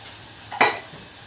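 A spatula scrapes once across a pan while sautéing leftover chapati pieces with coriander in dal, a single short, close stirring scrape over a faint background hiss.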